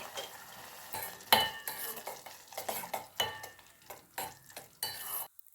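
A spoon scrapes and knocks around a pot of tomato pepper rasam with turmeric in a series of uneven strokes, with a soft sizzle underneath, ending abruptly.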